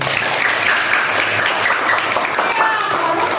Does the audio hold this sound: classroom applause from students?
yes